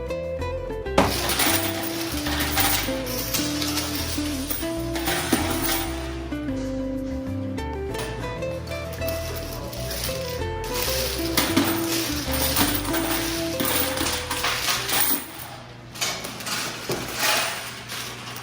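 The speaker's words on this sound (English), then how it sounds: "let's go count the coins we have then" Coins from a laundromat clinking and jingling as they are counted, bursts of metallic chinks and rattles close by over a steady background, coming and going in clusters across the stretch.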